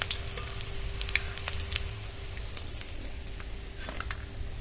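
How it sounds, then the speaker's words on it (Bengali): Pea fritters fry in oil in a pan with a steady, close hiss and sizzle, dotted with small crackles and pops throughout and no voices. "একইভাবে সবগুলো দিয়ে ভেজে নেব।"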